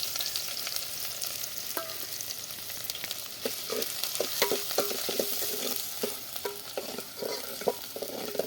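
Onions and curry leaves fry in a pan with a continuous bright sizzle, punctuated by close scraping and clinking from stirring, with no voices.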